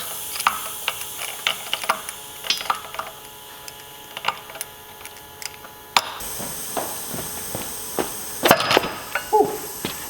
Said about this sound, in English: You might have to hold the Torx and then twist the nut out with a big wrench.